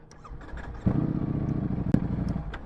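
A Ducati Streetfighter V4 motorcycle pulls away, its engine rising from a low idle into a louder rasping growl with a couple of sharp blips, heard close and alone.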